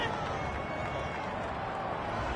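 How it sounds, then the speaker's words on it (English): Steady roar of a stadium crowd in a PS4 football video game, voicing disapproval of a roughing-the-passer personal foul call against the defense; a dense, continuous wash of noise at a fairly even level with no talk. "this crowd does not like that call"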